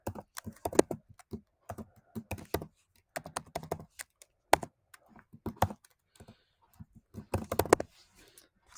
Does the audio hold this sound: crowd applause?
no